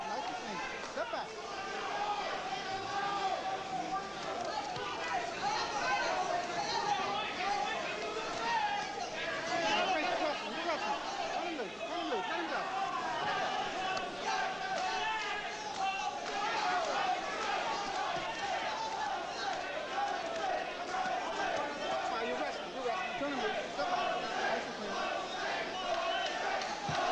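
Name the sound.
boxing crowd chanting the name Jose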